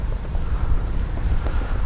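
An XFLY F-35 RC model jet flies a landing pass with its gear down, giving a steady, moderately loud ducted-fan whoosh with a slight swell as it passes, with no voices.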